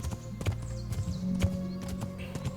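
Horse hooves clop along a trail in Kingdom Come: Deliverance, an even walking rhythm of soft thuds at close range over low ambient game sound.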